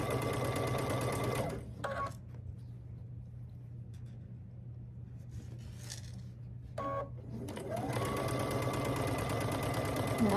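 A sewing machine chain-pieces quilt blocks in fast, steady whirring runs: one long burst, a quiet pause with soft handling sounds, then the stitching starts up again close by.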